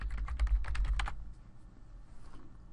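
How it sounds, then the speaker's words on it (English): Rapid keystrokes on a computer keyboard clatter in a quick burst for about a second, then stop, leaving quiet room tone. "I'm just going to type in Practice Assignment."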